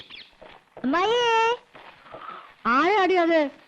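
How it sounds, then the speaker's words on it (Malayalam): A cat gives two drawn-out, rising-and-falling meows in a quiet indoor comedy scene, with soft shuffling noises between the calls. "തട്ടുമ്മേ പൂച്ച പൂച്ച"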